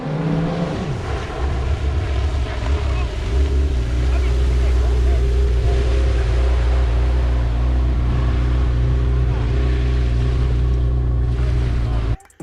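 A 2016 Yamaha FZR personal watercraft on a test run, its engine droning loud and continuous close by for the whole stretch before cutting off abruptly at the end, with speech faintly under it.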